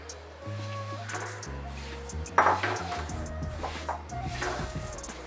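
Utensil clanks and scraping against a kadai while roasting with oil on a low flame for sesame chikki, a few moderate metallic knocks and shuffling close by, with no talk.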